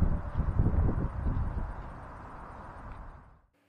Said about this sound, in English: the wind's very windy out here tonight again